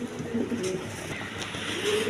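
A few low coos from imported pigeons drift along at moderate volume, muffled against a constant hum of ambient noise, with no voices present.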